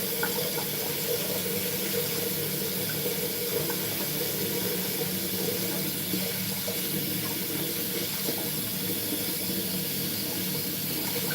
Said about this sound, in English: I'm cleaning the toothbrush, rinsing it under piping hot water.